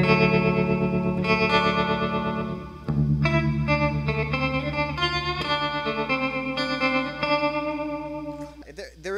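Electric guitar runs through a tremolo pedal with some reverb, producing sustained chords that pulse and shimmer with a washy tail. The tone shifts partway through, and the playing stays loud and close with no talking over it.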